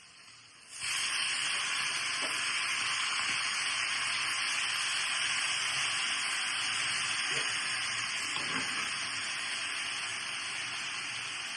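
Fenugreek leaves drop into hot oil with garlic and green chili, setting off a loud, steady sizzle that starts abruptly and holds for the rest of the clip.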